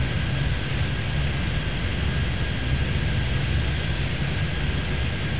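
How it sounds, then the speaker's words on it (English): Aircraft taking off in tandem in the video game Airport Madness 3D, a loud, steady, broad engine roar with a faint high whine, continuous and unchanging throughout with no talking. "This is what I like, the tandem takeoff."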